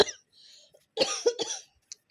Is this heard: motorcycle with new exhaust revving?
no